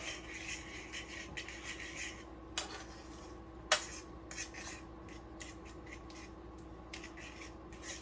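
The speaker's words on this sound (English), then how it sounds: "Still just whisking this together, making a nice sauce right here" Whisking a creamy sauce for baked mac and cheese in a pot, a quiet, steady scraping and rubbing of the whisk against metal with occasional light clinks.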